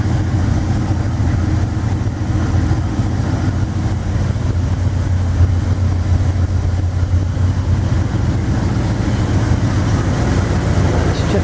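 A 1960 Chrysler 300F engine idles after a cold start, a steady low rumble held close and constant throughout, with no voices.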